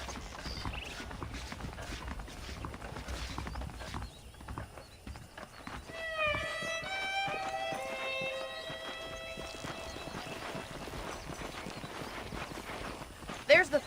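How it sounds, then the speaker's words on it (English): Saddled horses' hooves clip-clop at a trot in Red Dead Redemption on PC under ongoing ambient sound, with a horse neighing loudly partway through. "The horses are saddled up over here."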